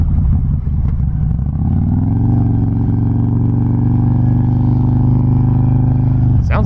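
A 2008 Harley-Davidson Road King with a Twin Cam engine rumbles steadily while riding, a deep, low, even throb that settles into a smooth cruise with slight pitch shifts, close and continuous.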